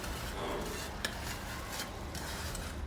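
A spoon stirs boiled broad bean pieces into a tomato curry in a pot, with soft scraping and a single sharp clink against the metal.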